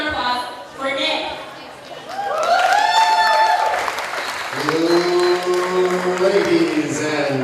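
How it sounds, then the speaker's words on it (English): An audience at a nerd night science talk applauds and cheers for a speaker, the clapping swelling in the middle while an amplified voice talks over it. "So massive round of applause for Nic."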